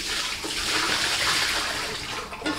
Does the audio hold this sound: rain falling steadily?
no